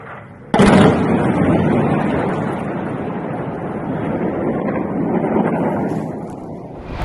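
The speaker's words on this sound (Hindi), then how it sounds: "उस होम्स के इलाके पर रशिया बमबारी कर रहा है" Bombardment in Homs, Syria: a sudden heavy blast bursts in after a quiet moment, then a loud, sustained rumbling roar with wind-buffeted noise that slowly fades and swells again.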